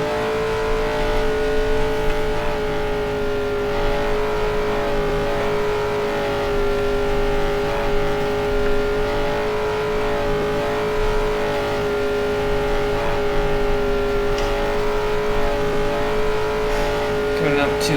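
A 1978 Indianapolis 500 race car in a racing video game holds a steady, droning engine whine at high revs throughout, with someone talking over it now and then.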